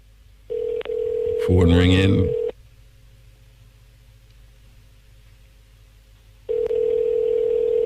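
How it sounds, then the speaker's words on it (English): A telephone ring tone sounds over the line during a radio call-in cash giveaway, in two steady electronic bursts separated by a quiet gap, with a brief voice over the first burst. "Phone ringing."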